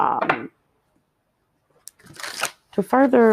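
Tarot cards are shuffled in a short, crisp riffle burst at the start, followed by a pause and then a person talking.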